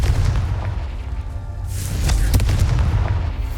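Booming fire-spell explosions from the Hogwarts Legacy video game rumble continuously with deep low thuds and a sharper blast near the middle, loud and close, without any voices.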